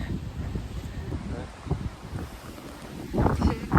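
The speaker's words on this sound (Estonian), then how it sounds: "tuul on meeletu" Strong wind gusting through the old town of Riga buffets the microphone, a rough, rumbling roar that swells and surges, loudest near the end, with some faint talk underneath.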